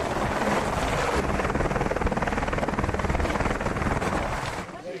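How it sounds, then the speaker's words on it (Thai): A helicopter lands at the Everest View hotel helipad in Nepal's Everest region. Its loud, close rotor chop and turbine roar fill the whole stretch without a break, then ease slightly at the very end. "ขึ้นเฮลิคอปเตอร์กันมาได้แบบนี้เลย"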